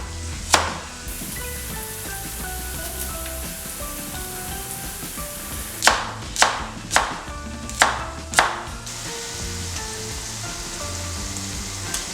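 A knife chops carrots on a board for a Moroccan tagine: one sharp cut, then a quick run of five crisp chops, heard over a steady low sizzle of onions cooking.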